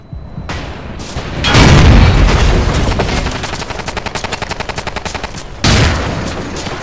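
Tank cannon and machine-gun fire from Battlefield 2 with the MoRoZ Rebalance mod: heavy booming blasts at the start and end bracket a long, rapid rhythmic burst of automatic gunfire, loud and close, with no talk.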